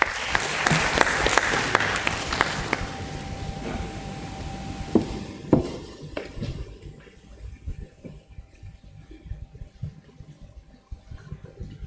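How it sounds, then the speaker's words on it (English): Audience at a stock exchange listing ceremony for a fashion jewellery company applauds in a full burst that thins out after a few seconds into scattered last claps, then near silence with faint room noise. "Can we have a round of applause for her?"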